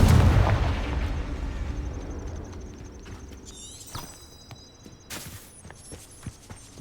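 A Confringo fire spell in Hogwarts Legacy bursts with a loud, booming blast at the start that rumbles and fades over several seconds, followed by scattered magical chimes, footsteps and smaller impacts.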